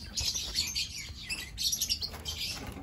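Lovebirds in a breeding box chirp in rapid, high-pitched bursts that repeat throughout, close and fairly clear, with a faint low background rumble.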